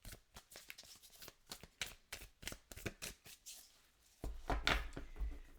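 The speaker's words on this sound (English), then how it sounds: "All right, let's cut the deck." An Elements of Life Tarot deck being shuffled and cut, with a quick run of crisp card riffles and slaps close to the listener, then a heavier handling burst near the end.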